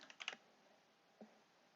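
A short burst of keystrokes on a computer keyboard, a few quick clicks close together followed by one more key press after a pause, faint and close.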